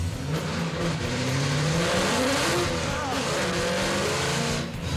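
A muscle truck launching hard with wheel hop, its engine roaring loud and continuous under strain while the tires chatter and squeal; the run is heard up close with a sustained, dense engine drone throughout.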